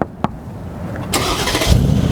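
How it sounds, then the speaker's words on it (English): A car engine cranks and catches, rising into a steady, rumbling exhaust idle that grows louder toward the end. "I'm gonna have her start up the exhaust so you guys can hear what it sounds like"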